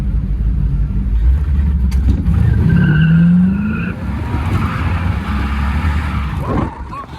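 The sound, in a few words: Chevy LS overhead cam engine car accelerating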